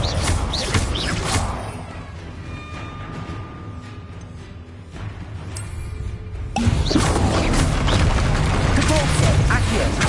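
A Confringo blasting spell bursts in Hogwarts Legacy, a dense game explosion and crash with a loud, sustained second burst partway through, layered over busy combat noise.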